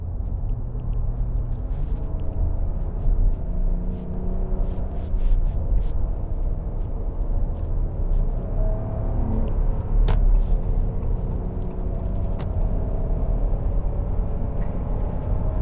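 A 2022 Ram 1500 Classic V6 pickup drones under acceleration onto a highway, a low, steady cabin rumble with faint road noise and no sharp peaks.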